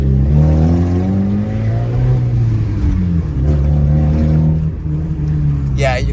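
A 2000 Honda Civic HX with no muffler idles and revs under a steady, loud engine drone that rises and falls in pitch, close by, with people talking over it.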